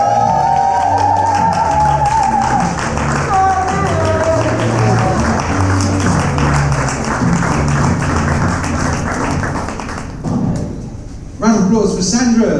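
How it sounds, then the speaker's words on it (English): An audience at a poetry book launch applauds a poet in a long, dense burst of clapping, with voices and some cheering mixed in. Near the end the clapping thins out and trails away. "So let's give an overwhelming round of applause to Sammy Nour."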